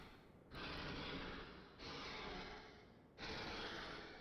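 A creature in the video game Nightreign breathes heavily in three slow, drawn-out, raspy breaths, fairly quiet and with short pauses between them.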